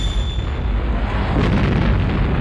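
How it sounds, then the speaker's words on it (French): An explosion in the 1981 film Mad Max 2 comes as a loud, heavy booming roar with a deep rumble that fills the whole moment and holds without fading. "première explosion du film"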